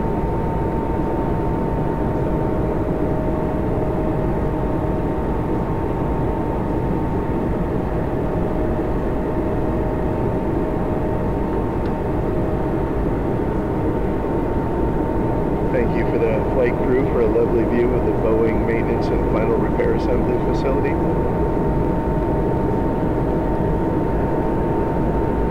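A Breeze Airways airliner takes off, heard from inside the cockpit: a loud, even engine roar holds throughout, with a few faint, indistinct sounds rising briefly in the second half.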